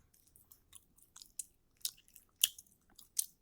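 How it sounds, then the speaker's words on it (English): Gum being chewed close to the mic: a series of quick, wet, crackly smacks in an uneven rhythm, a few louder bursts standing out against near silence. "I'm chewing gum."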